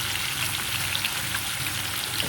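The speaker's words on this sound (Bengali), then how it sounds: "এই চিংড়ি মাছটা আমি খুব লাল করে ভাজবো না" Shrimp fry lightly in hot oil, giving a close, continuous sizzle with fine crackling pops and no voices.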